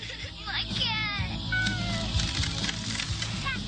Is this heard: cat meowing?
yes